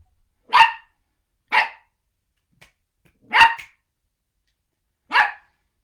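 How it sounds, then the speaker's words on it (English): New puppy barking indoors, four sharp separate barks spaced about a second apart with quiet gaps between, close and loud with no talking. "Ursa, our new puppy, is learning all about boundaries"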